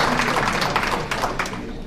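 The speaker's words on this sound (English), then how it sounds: "Give them a round of applause" Steady crowd applause at a college soccer showcase information session in the Bahamas, a dense wash of clapping at moderate volume that carries on throughout without a break.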